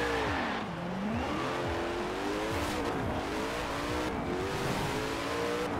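An Ultima Evolution Coupe driving in Forza Horizon 4, its engine revving loudly and continuously with pitch rising and falling through gear changes, with tire squeal and skidding mixed in.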